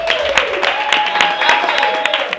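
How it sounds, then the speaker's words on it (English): An audience at a reunion show claps steadily for about two seconds, dense applause with a faint tone running underneath. "let's give a round of applause for Rakia"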